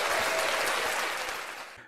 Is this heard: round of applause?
yes